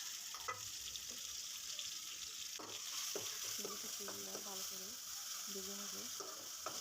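Dried shrimp fries in a pan with onion, a steady sizzle throughout while a utensil scrapes and clicks against the pan in irregular strokes; no talking.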